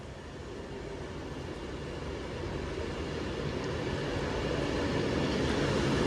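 An Avanti West Coast service to Crewe arrives at platform 2 at Stoke-on-Trent, a broad rumbling roar that builds steadily louder as the train draws in, with no talk.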